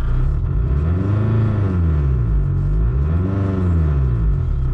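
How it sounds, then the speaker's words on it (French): A Renault Scenic 1.9 with worn silent blocks rumbles at low pitch as its engine revs up and eases off twice, the drone swelling and falling with a steady vibrating hum and no talk over it. "je vais accélérer, voir si ça s'atténue"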